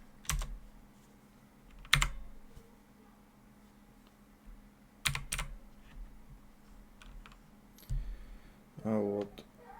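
Computer keyboard keys struck in a few sparse, separate clicks and short bursts, like hotkey presses such as Escape, with quiet gaps between them and faint room noise underneath.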